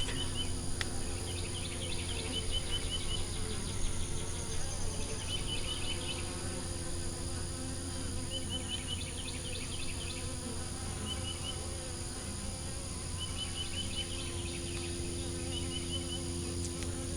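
Honeybees buzzing around a hive frame carrying a queen cell, a dense continuous hum of many insects close by, with a few faint bird chirps over it.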